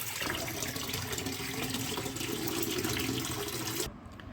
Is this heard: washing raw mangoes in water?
yes